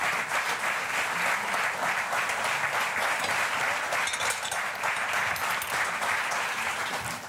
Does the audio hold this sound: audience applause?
yes